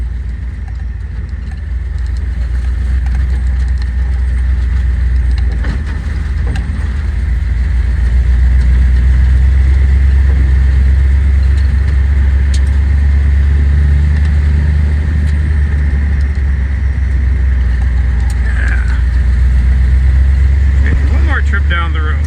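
A 1958 Edsel hardtop cruises down a road in North Dakota, its engine a steady low drone with overdrive engaged, a voice talking over the rumble.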